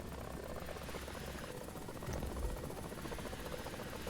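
The Ka-50 attack helicopter in War Thunder flies with a faint, steady rotor-and-engine drone, a continuous low throb that swells slightly partway through, with no talk.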